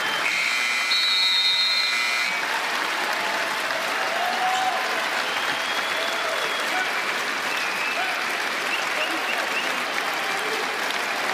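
An NBA arena crowd applauds and cheers in tribute to Kobe Bryant, a loud, dense, sustained roar that holds for the whole stretch while a buzzer briefly sounds early on.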